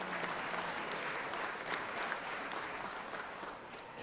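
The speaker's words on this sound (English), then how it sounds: "Let's give them a big round of applause," Steady applause fills the Georgia Senate chamber as guests from Women in Radio stand at the front, the clapping dense and even from start to finish with no voices over it.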